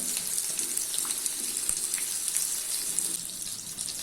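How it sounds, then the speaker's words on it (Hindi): Fish pieces shallow-frying in a pan over a low gas flame give a steady, even sizzle that runs unbroken from start to finish, with no talking. "गैस की फ्लेम को लो कर देते हैं और लो फ्लेम पे इसको 4 से 5 मिनट तक फ्राई कर लेते हैं"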